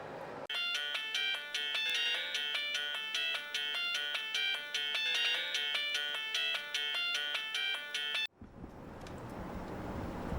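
A telephone rings after a number is redialed, a loud repeating electronic ring pattern sounding steadily for about eight seconds before cutting off into room noise.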